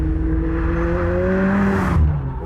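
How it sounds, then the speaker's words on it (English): McLaren 720S with its 4-liter twin-turbo V8 of 710 horsepower, heard as a steady loud engine drone with rising tones that climb as it accelerates, then settles lower near the end. "Let's go drive it. This is the McLaren 720S."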